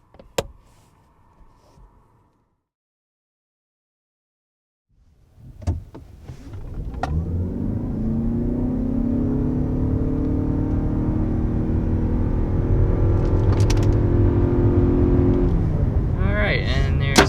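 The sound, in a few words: 2022 Lexus UX 250h hybrid accelerating to 60 mph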